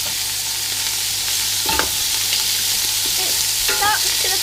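Bacon hits a smoking-hot pan and is stirred, producing a loud, close, continuous sizzle broken by a couple of distinct scraping strokes against the pan, without any talking.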